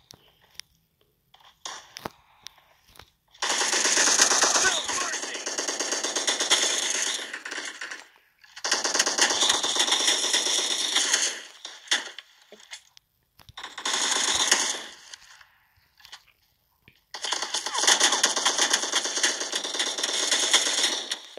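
Bursts of automatic gunfire from an AKM rifle in a video game, arriving as four loud sustained volleys of rapid shots separated by short pauses, with no talking.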